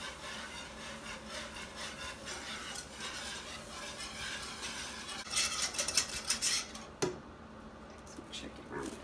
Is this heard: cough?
no